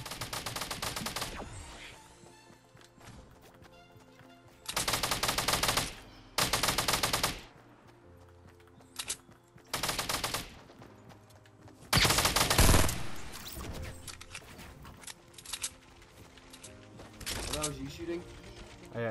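Video game gunfire while shooting at an enemy: several loud bursts of rapid automatic fire separated by quieter gaps, with a voice speaking between them.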